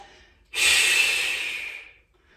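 A single long, forceful breath out during a Pilates exercise, loud and close, a broad airy rush that swells suddenly and fades after about one and a half seconds, with quiet room tone around it.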